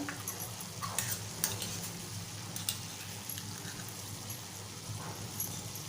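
Cabbage and chana dal bhaji with spices being stirred in a pan, a steady scrape-and-sizzle texture with a few sharper utensil knocks, close and moderately loud with no talking.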